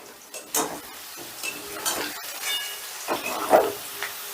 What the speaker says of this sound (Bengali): গ্যাসের আঁচটা প্রথম থেকে শেষ পর্যন্ত বাড়িয়েই রাখতে হবে, ফুল করে রাখতে হবে, তাহলেই চিকেনটা ভাজতে সুবিধে হবে।